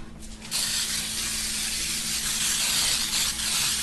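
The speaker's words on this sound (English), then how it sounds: "I'm going to give it a little bit of a spray." A long continuous hiss from a cooking spray can spraying steadily into a cake pan for several seconds at close range, after a brief quieter moment.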